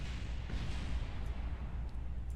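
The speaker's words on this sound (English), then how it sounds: "I just heard the fuselage exploding down there." A fuselage explodes in Kerbal Space Program as a dense, rumbling blast-like roar that stays loud and steady throughout, with no voices.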